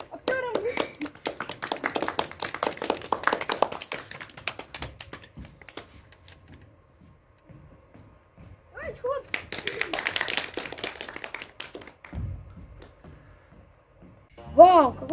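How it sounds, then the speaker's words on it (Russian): Audience applause for actors at a KVN comedy show, a burst of clapping that fades and then returns, with people talking over it. "Ну, давайте похлопаем нашим актерам."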